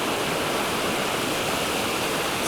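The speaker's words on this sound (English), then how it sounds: "Waterfall over there." A waterfall and stream in winter pour out a loud, dense, unbroken rush of white noise, steady and close throughout with no voices.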